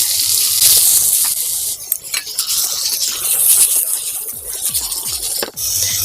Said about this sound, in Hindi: प्याज को भी अच्छे से भून लेंगे।